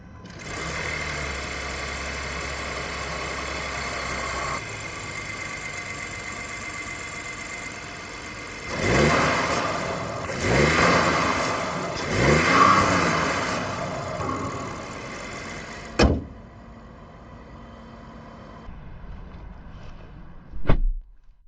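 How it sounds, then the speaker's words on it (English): Audi A6 3.0 turbo V6 idling just after start, a fast, even mechanical ticking of injectors over a low hum, with a few soft rev swells midway and two sharp knocks near the end; no talk. "You can hear the injectors clattering around a bit"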